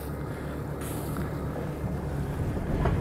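Oxe 300 hp diesel outboard engine running on a 34-foot Cape Horn boat out on open water, a steady low drone blended with rushing wind and wave noise, with no talking.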